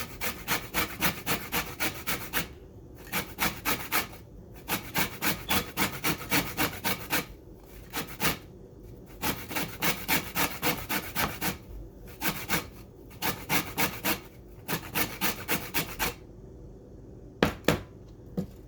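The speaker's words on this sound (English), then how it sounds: "So I'm going to zest the lemon" A lemon being zested for sautéed shrimp, with rapid, rhythmic rasping strokes against a grater in quick bursts separated by short pauses, close and steady throughout.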